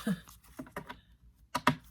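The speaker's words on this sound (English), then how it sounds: "It's getting easier for me to shuffle the more I shuffle it." Short riffles and taps as a tarot card deck is shuffled, a few soft clustered bursts of card noise close up in a quiet room.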